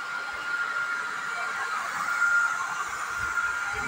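Hair dryer blowing steadily while drying hair, a constant whirring airflow with a high motor whine, moderately loud and close, with no talking.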